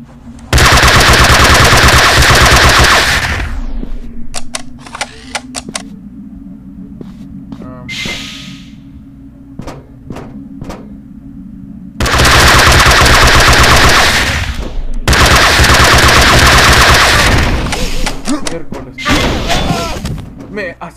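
Gunfire in the space video game Deadly Space Stories: long, loud, close bursts of rapid automatic fire broken by single shots and thuds, with a voice heard in the gaps.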